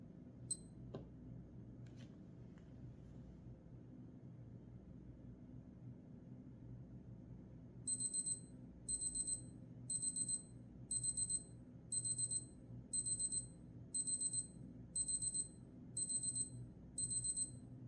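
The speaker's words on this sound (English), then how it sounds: "that was what the sound of the timer when it's done is" A Casio AE-1200WH digital watch sounds its countdown timer alarm: high, thin electronic beep bursts repeating about once per second, ten groups in a row, after several seconds of near silence.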